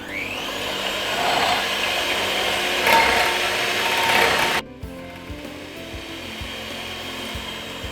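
Electric whisk or mixer beating three eggs in a bowl, a loud rising whine that holds for about four and a half seconds before stopping, leaving quieter clinks and handling noise.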